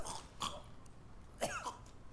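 Two sharp coughs in the video game Metal Gear Solid 4, about a second apart, each a short harsh burst with a rasping tail, fairly close and alone with no talk.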